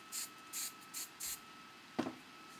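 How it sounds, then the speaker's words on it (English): Four short, even bursts of hairspray hiss close by in quick succession, followed by a single soft knock. "But I'm just going to spray it."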